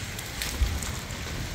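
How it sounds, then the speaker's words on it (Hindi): Heavy rain falls steadily in Fujairah, UAE, a dense, even hiss with soft patter throughout and no speech. "अभी आधे घंटे से काफ़ी तेज़ बारिश हो रही है"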